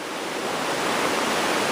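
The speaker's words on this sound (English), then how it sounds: "And the river is very loud here." A loud river rushing through a secluded canyon, a dense continuous roar of water filling the whole clip with no other sounds.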